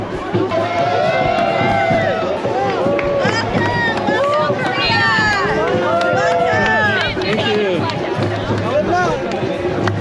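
A crowd cheers loudly at the opening parade of the 2022 ISA World Surfing Games in the US, with many overlapping whoops, rising and falling shouts and chatter sustained throughout at close range.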